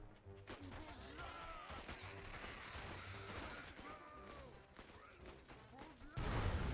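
Machine gun nest firing in Tooth and Tail, the strategy video game, as reinforcements run into it: dense, continuous gunfire and crashing battle effects throughout, with a louder burst near the end.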